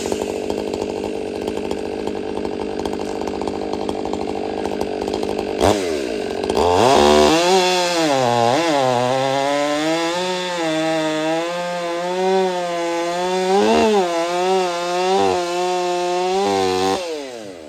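A chainsaw is used to cut a log while someone teaches a young logger. Near-field mechanical rumble sounds first, then the saw fires up loud around the middle and revs up and down in repeated surges under load until the end.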